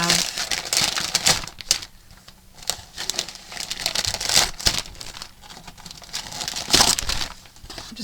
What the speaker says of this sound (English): just ripping them all out of the box.